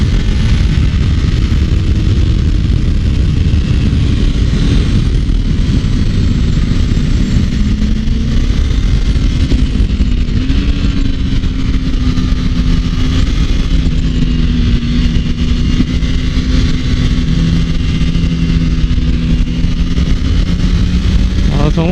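Kawasaki Ninja 300 motorcycle engine on a race track, a steady loud engine drone throughout with rising and falling pitch through the gears, close on-board, with wind noise and a voice talking over it.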